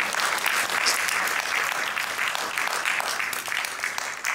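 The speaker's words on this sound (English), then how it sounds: "Round of applause for that." Steady, dense applause from an audience at a leadership event, sustained and fairly loud for the whole stretch with no talking over it.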